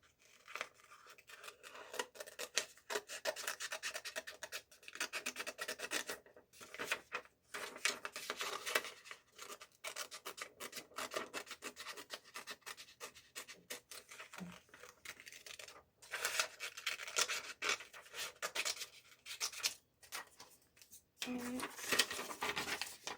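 Scissors snip through purple cardboard for a fish mask craft: repeated close crisp cuts in quick bursts, with short pauses between runs.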